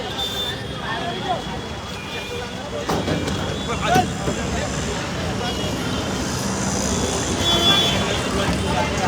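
A car inches through a dense crowd of party workers gathered outside a former minister's house, with a horn toot, road traffic noise and steady crowd babble, and people shouting and talking close by throughout.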